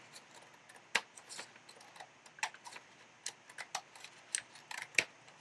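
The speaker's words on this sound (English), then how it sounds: "So I'm going to grab a pair of scissors" Scissors snip through a paper bag being cut in two for a journal, giving a handful of sharp, separate clicks and crisp cuts, close and quiet against a near-silent background.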